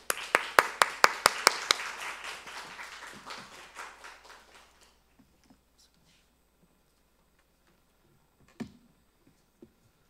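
A church congregation applauds to welcome a visiting pastor at a Sunday service. The clapping starts loud and fast, then thins and fades over about five seconds, followed by near silence with a few faint knocks.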